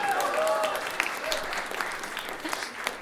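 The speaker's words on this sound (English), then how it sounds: "Could we give him a round of applause?" Round of applause from a live comedy show audience, moderate and steady clapping that tapers slightly, with faint crowd murmur mixed in.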